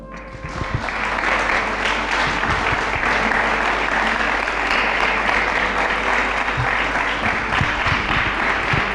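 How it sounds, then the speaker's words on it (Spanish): A church congregation breaks into loud, sustained applause during a sermon, hands clapping in a thick, continuous roar that swells within the first second and holds steady, with faint voices mixed in. "Den un aplauso al Señor."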